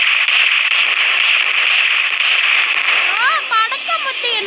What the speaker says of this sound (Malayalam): പടക്കം പൊട്ടിക്കുന്നു.